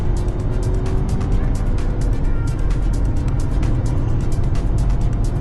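A Ford Bronco Sport accelerates hard with paddle shifting, its engine and road noise forming a loud, dense, steady roar heard from inside the cabin, with a few sharp clicks scattered throughout.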